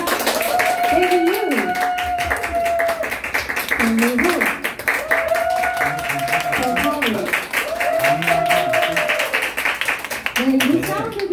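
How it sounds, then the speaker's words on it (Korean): Applause and clapping from an audience at a live jazz performance, sustained and fairly loud throughout, with a voice talking over it and a sustained tonal sound above. "다시 한번 큰 박수 부탁드립니다"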